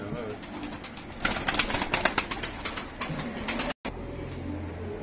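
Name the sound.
pigeons cooing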